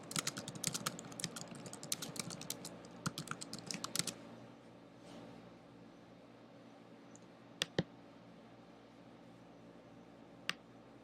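Quiet typing on a computer keyboard, a flurry of close, light key clicks for about four seconds, then a few isolated clicks over soft room noise.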